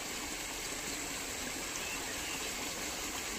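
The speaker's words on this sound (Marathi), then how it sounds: "मोटर चालू करून दिली आजीला." Water pump motor running and pumping water, producing a steady, loud gushing rush with an even hiss and no breaks, heard close by without any talking.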